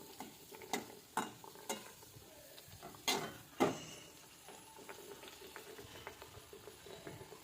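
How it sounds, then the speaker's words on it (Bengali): Egg khasta dough fries in hot oil as a soft, steady sizzle, broken by several sharp clinks and scrapes of a utensil stirring against the pan, all quiet and close with no voices. "আমার তেলটা গরম হয়ে গেছে, আমি এবারে তেলে দিচ্ছি।"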